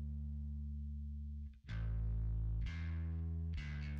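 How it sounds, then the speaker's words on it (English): Electric bass notes through a SansAmp track with a light, gritty low-level distortion, a sustained tone followed by three plucked notes, no talking. "Some really low level distortion."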